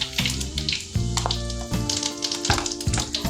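Cumin seeds sizzle and fry in hot oil as the base for a masala paste, with a steady close crackle and several clinks of a utensil against the pan.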